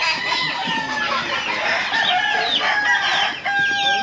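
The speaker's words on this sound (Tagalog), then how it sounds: "Natatakaw yung manok eh" Chickens cluck steadily and busily throughout, close and fairly loud, with overlapping calls and no talking.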